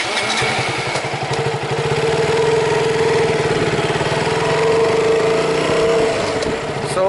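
A KTM Duke 200 motorcycle engine runs steadily and loud throughout, with a continuous buzzing drone and rhythmic pulsing while the bike rides through Airoli, India.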